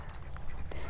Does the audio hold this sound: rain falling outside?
no